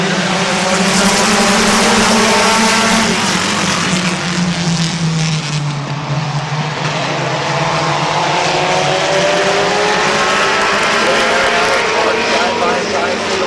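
Race cars roar around Midvale Speedway in a loud, continuous engine howl whose pitch sweeps down and back up as the pack passes, while an announcer talks over the racing.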